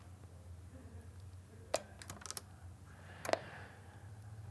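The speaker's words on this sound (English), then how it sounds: "I'm going to have to hit my spacebar so I can get it into update mode." Spacebar taps on a computer keyboard while powering up a Xiegu G90 transceiver for a firmware update: two short clusters of quiet clicks over a steady low hum.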